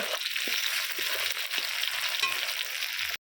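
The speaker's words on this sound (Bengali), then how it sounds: "টমেটোটাও পেঁয়াজের সঙ্গে ভালো করে ভেজে নেব" Chopped tomato frying in oil with browned onion gives a steady, close, broadband sizzle with a few soft stirring knocks, then cuts off abruptly near the end; no talk.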